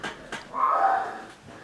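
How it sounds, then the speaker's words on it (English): A dog gives a single short, mid-pitched bark-like whine indoors, preceded and followed by brief soft knocks and rustles. "My dog's barking, which is annoying when I'm trying to film"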